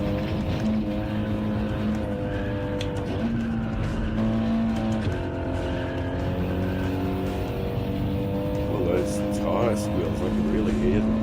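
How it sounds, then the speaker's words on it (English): A race car in the video game Gran Turismo 7 drives continuously, its engine drone running steadily with tonal squealing tyres rising and falling over roughly eleven seconds, fairly loud, with faint talk underneath. "I turned them up, tyre squeals and that sort of thing"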